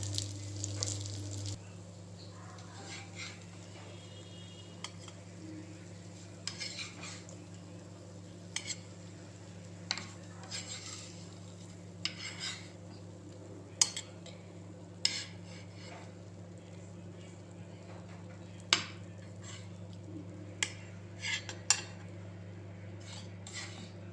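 Green masala king fish fry is lifted from a pan onto a plate, with sparse, faint metallic clinks and scrapes of a utensil over a steady low kitchen hum.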